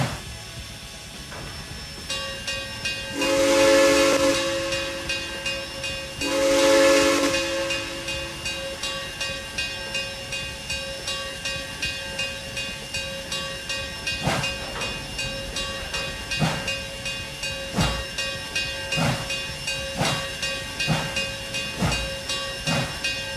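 A steam locomotive pulls out in Trainz 2019 on the Brighton Branch: two long whistle blasts over a steady hiss, then chuffing exhaust beats that quicken as the train gathers speed.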